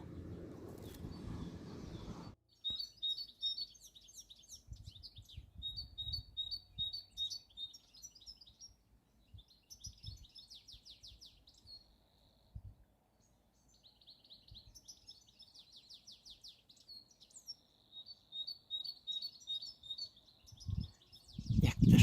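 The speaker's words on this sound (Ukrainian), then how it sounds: "пташки співають гарно." Small birds chirp and trill steadily in the background, bright repeated twittering phrases with short gaps, fairly distant over a quiet outdoor setting.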